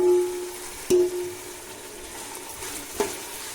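Tomatoes go into a hot pan for a soybean biryani masala and are stirred, a low sizzle broken by two sharp utensil clunks against the pan, one early and one later.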